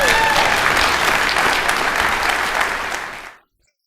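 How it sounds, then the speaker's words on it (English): An audience applauds for newly graduated students: dense, steady clapping from a crowd that carries on evenly, then quickly dies away to silence. "And they also deserve a round of applause because yesterday morning they just graduated"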